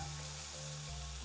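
Food frying in a pan in the Dordogne video game on Nintendo Switch, a brief soft sizzle with steady tonal game music underneath, no speech.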